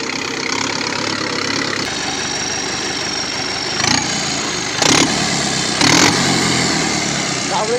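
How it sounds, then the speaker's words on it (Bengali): A 595 turbo tractor engine with its silencer removed runs steadily and loud and close, an unbroken raw drone, with three brief bursts of extra noise near the end. "আর আমাদের 595 গাড়িটা যেহেতু টার্বো গাড়ি, তাই এই সাইলেন্সারটা খুলে দিয়েছিলাম।"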